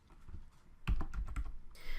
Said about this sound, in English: I'm going to go ahead and start typing a message.